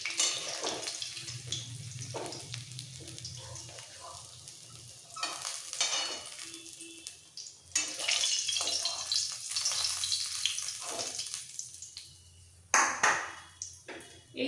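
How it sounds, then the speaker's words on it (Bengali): Fish pieces fry in oil in a pan, with a patchy sizzle and intermittent stirring clatter and bursts that come and go over about fifteen seconds. "এইভাবে এই বাকি 2 পিস মাছও ভেজে নেব।"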